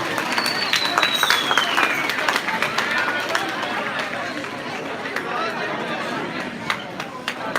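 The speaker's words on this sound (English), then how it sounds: "A big clap for them." A church parish festival audience gives a round of applause for the youth choir, dense steady clapping from a crowd with chatter, continuous for several seconds.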